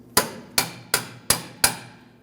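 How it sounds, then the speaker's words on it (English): Five sharp metallic taps, evenly spaced and close, as a nut is struck to drive a front lower control arm bolt out of its mount on a 2005-2010 Chrysler 300, each ringing briefly and decaying before the next. "We can use that nut to lightly tap the bolt out of place."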